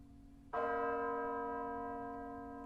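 A single deep church bell strikes once and rings on with a long, slowly fading hum of overtones after a quiet start.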